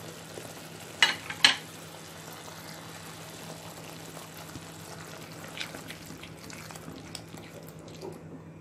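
Ginger garlic paste with tomato puree and Kashmiri red chili powder frying on low heat in a pan for pav bhaji, a soft steady sizzle with a couple of sharp clinks near the start.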